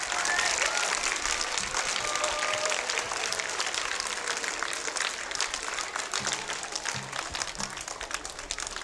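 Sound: applause welcoming teachers on stage

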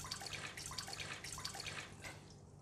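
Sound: water being poured into a cooking pot

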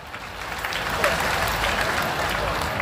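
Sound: audience applause welcoming a politician at a wedding event

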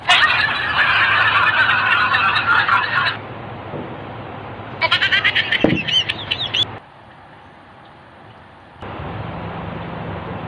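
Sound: chicken

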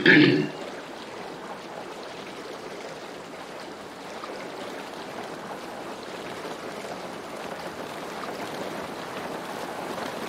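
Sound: ocean waves in video game

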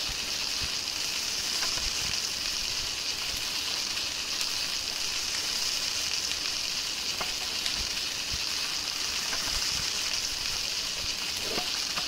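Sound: mushrooms frying in a pan in the Palworld video game

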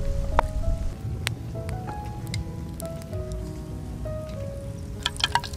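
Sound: heavy rain outdoors

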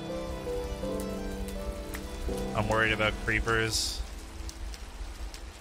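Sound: rain falling in the video game Minecraft (SevTech: Ages modpack)

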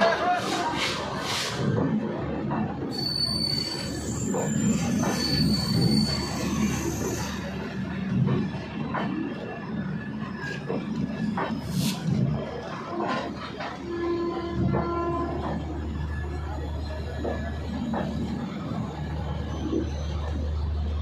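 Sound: Gorakhpur - Panvel Superfast Express train departing station

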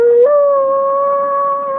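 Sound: dog howling

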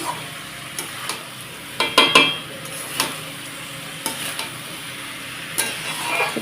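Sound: rice and lentils being stirred and fried in tempering

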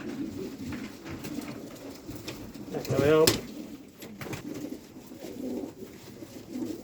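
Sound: cooing Mardin pigeons

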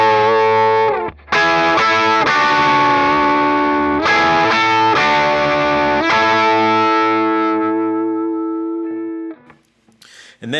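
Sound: electric guitar strikes A root chord with effects

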